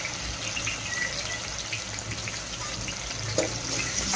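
Finely chopped tomato frying in a pan with onion for a Konkani-style chicken curry, a continuous close wet sizzle with a brief louder spatter near the end.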